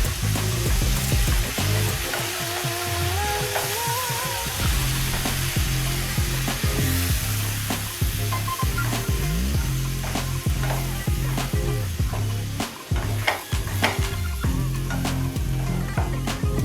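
Pumpkin curry with curry leaves sizzles steadily in oil in a pan, with a spatula stirring and scraping in repeated strokes over continuous loud frying.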